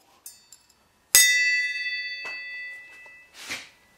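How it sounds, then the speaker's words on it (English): A single bell is struck once and rings out with a long bright shimmering decay, preceded by a few small metallic taps and followed by faint clinks, heard alone and fairly close. "Here's the bell."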